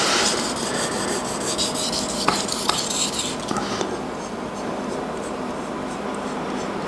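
A Japanese chef's knife is drawn across a wet whetstone in steady, close rasping strokes that scrape continuously throughout, with no talking.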